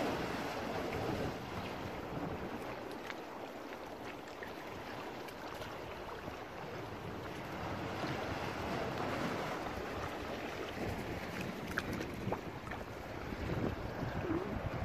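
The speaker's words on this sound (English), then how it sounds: "There's a big cave in there, you can hear it. Ready when the water goes in." Sea waves surge and wash into a big beach cave on the coast a couple of hours after high tide, giving a steady, broad roar of churning water with wind noise over the microphone and no voices throughout.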